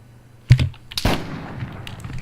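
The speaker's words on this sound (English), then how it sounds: "Looks like he's opening fire on those dead bodies to make sure they have been taken out." Gunfire in the military shooter game ARMA 3: two sharp, loud reports about half a second apart, each followed by a rumbling echo that fades into faint clicks and distant pops.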